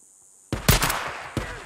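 Gunshots in the open-world game Days Gone: after a quiet moment, a sharp close shot rings out with a brief echoing tail, followed by a second, softer report a moment later.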